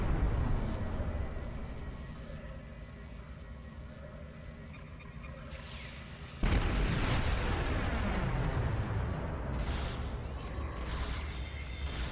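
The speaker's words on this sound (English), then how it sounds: "Kaboom!" A loud, booming explosion from the Star Trek Online space game, destroying Borg targets, bursts in suddenly over a steady rumbling game soundscape and then trails off into a long, noisy decay, with no talking.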